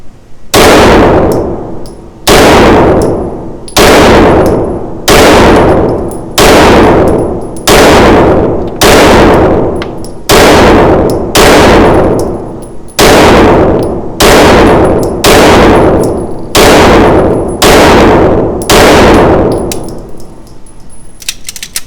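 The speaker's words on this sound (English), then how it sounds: "Just going to shoot slower for groups." An Atlas Athena V2 2011 pistol fires about a dozen loud, sharp shots at slow, even intervals while aiming for groups on targets, each report ringing briefly before the next.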